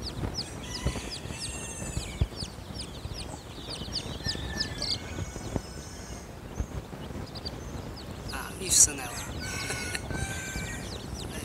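Hens cluck and chicks peep in a steady busy chorus, with scratching and rustling close by and a sharper squawk near the end.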